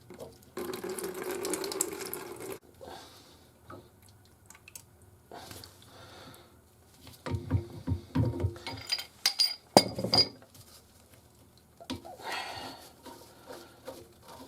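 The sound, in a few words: water draining from sink trap under sink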